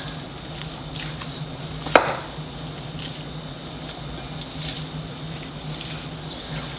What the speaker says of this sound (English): Just kind of mix it all up.